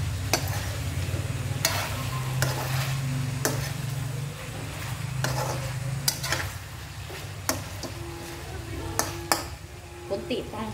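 Chicken browns in a pan for Filipino tinola with a steady sizzle under scattered metallic clinks and scrapes from stirring, while a person talks at intervals.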